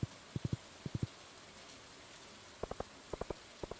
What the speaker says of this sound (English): Unless you like the rain sounds.